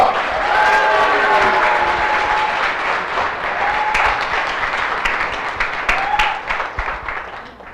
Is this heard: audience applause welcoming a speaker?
yes